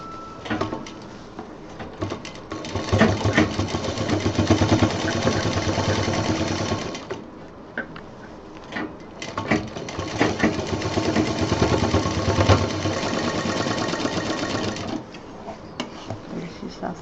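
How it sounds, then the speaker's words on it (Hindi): A sewing machine stitches the zipper and runner section of a baby diaper bag, running in two long, steady whirring stretches with short pauses between, close and clear. "पहले हम ये जिप और रनर वाला हिस्सा सिल देते हैं ताकि कपड़ा पकड़ में आ जाए।"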